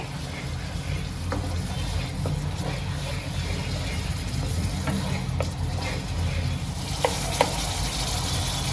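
Paneer masala sizzles steadily in a pan while a spoon stirs it, with occasional sharp scrapes and clicks against the metal over the constant frying hiss.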